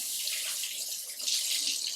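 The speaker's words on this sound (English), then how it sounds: "I'm going to rinse my hands really quick." Tap water running into a sink while hands are rinsed, a steady close hiss of flowing water with slight splashing variation throughout, no voices.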